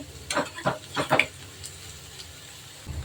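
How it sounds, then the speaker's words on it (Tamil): Egg 65 pieces deep-frying in hot oil, a few crackling spatters and stirring scrapes up front, then a quieter steady sizzle in the background. "போட்டு ஆல்ரெடி எண்ணெயில் நல்லா பொரிஞ்சிட்டு இருக்கு"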